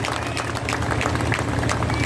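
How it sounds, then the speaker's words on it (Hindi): An audience of women seated at a speech and gathering honouring Babasaheb claps, a short stretch of steady, dense applause with no single clap standing out. "आप इनके लिए ताली बजाएं"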